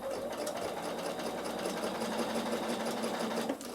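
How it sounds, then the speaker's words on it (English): A Bernina sewing machine runs steadily along a fabric edge, a continuous close mechanical whir with a rapid stitching rhythm and no talking. "you sew all the way to the corner"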